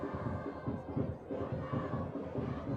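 A school rugby crowd of Hoërskool Langeberg supporters on their feet in the pavilion, a dense roar of many voices chanting and cheering in rhythmic surges, loud and sustained throughout.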